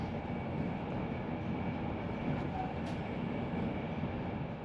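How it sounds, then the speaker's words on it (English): An InterCity 225 train with older Mark IV coaches riding smoothly at speed, heard from inside as a steady, fairly quiet rumble with light rattling and no one talking. "inside, at speed, well, these older Mark IVs definitely now have a few rattles, but the ride is very smooth indeed"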